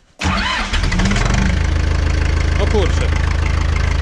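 An Ursus C-4011 tractor engine cranks and catches within moments, then settles into a loud, steady rhythmic diesel idle with a knocking pulse, heard up close while someone speaks briefly.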